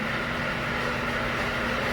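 A steady, rough mechanical hum with a constant low tone and grinding noise runs unbroken and close from an air compressor failing after running without oil, with no one speaking.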